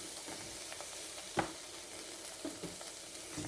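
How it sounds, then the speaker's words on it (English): A spoonful of tomato paste sizzles and fries softly in a pan, with faint scraping stirs and one sharper clink from the utensil partway through. "I'm going to put in just a little bit of tomato paste and always kind of cook that out as well."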